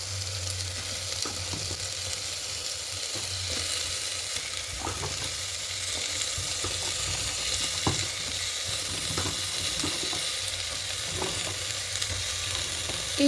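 Mixed winter vegetables added to chicken and stir-fried in a pan with very little oil, giving a continuous moderate sizzle with scattered clicks and scrapes of stirring, no voices.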